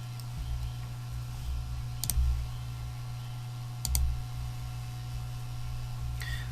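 A computer mouse gives two or three sharp, isolated clicks over a steady low electrical hum, close and fairly quiet, while saving a file.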